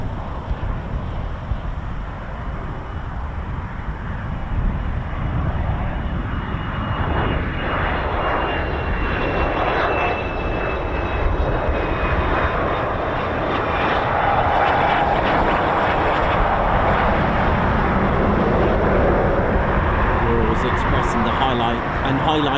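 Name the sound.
training aircraft engine, RAF Waddington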